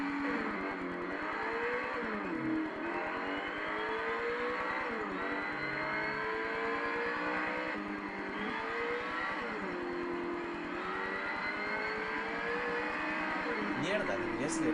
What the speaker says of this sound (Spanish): El sonido del turbo